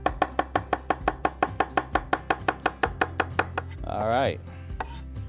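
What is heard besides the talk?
knife chopping onion on a cutting board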